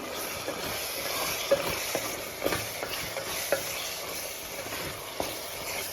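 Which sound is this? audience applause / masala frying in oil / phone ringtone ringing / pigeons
masala frying in oil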